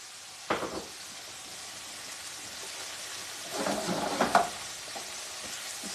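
Orecchiette pasta, broccoli rabe and sausage fry in oil in a pan, giving a soft steady sizzle with two brief louder bursts of stirring and scraping, close and quiet, with no talk.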